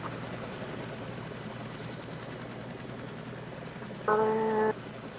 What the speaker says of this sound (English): Where is that heli? There it is. We'll follow this heli for a bit.